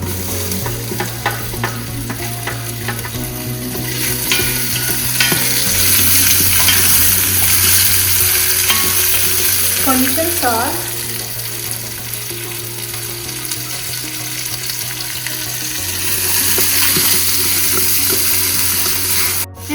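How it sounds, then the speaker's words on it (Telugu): Onions and grated carrots fry steadily in a pan for biryani, a constant close sizzle broken by scraping stirs of a spoon, with no talk. "ఇప్పుడు ఆనియన్స్ వేస్తున్నాను"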